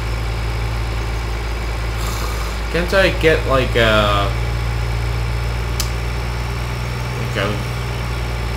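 A tractor engine idles in Farming Simulator 2013, a steady low mechanical hum running unbroken beneath a voice talking.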